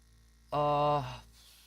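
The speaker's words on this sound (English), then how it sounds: "the vortex mixer just, you know, shakes the camera" A vortex mixer shakes a bottle of miniature paint, giving a loud, buzzing motor hum that starts abruptly, holds for about half a second, then winds down over low background hum.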